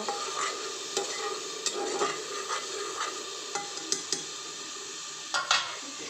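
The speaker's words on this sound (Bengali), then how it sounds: "এখন ভালো করে মশলা কষিয়ে নেব।" Spices with turmeric powder are stir-fried in a pot for a beef and chana dal dish, a soft steady sizzle broken by repeated scraping and clinking strokes of a spoon against the pot.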